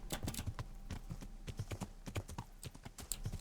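Horse hooves clip-clop in the medieval game Kingdom Come: Deliverance, an uneven run of close, crisp hoofbeats from an armored rider's mount, steady and without speech.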